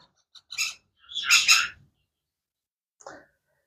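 Pet parrot chicks, yellow ringnecks and sun conures, give a few short, sharp calls: two quick squawks, a pause, then one fainter chirp, with no one talking.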